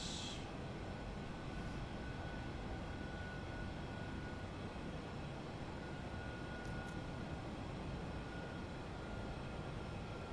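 Flight-simulator PMDG 737-800 engines spooling up as the throttles advance, heard as a steady broadband roar with a thin high whine, constant and fairly loud with no voices.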